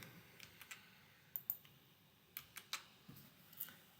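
Light, irregular keystrokes clatter on a computer keyboard while a subdomain name is entered in a Hostinger hosting panel, a dozen or so soft clicks in uneven bursts over a quiet background.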